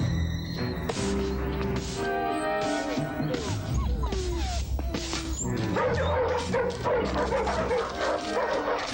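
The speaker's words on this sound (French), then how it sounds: "Les chiens devraient aboyer ou faire du bruit." Several dogs bark and yip excitedly in quick bursts, with some whimpering and pitched yelps, loud and close throughout.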